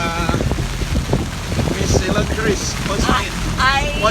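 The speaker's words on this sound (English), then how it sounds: "Now I'm in the rain." Rain and wind hitting a boat during a storm, heard as loud blustery wind buffeting the microphone with splashing water and rushing noise throughout, and a voice briefly audible underneath.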